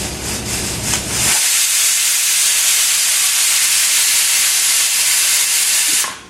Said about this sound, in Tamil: இந்த 2வது விசில்.